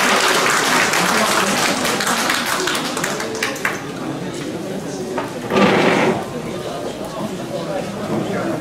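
Applause at an inauguration ceremony for a Gyeongsangnam-do residents' self-governance association president, a dense wash of clapping that fades after a few seconds and swells again briefly, with a voice speaking over it.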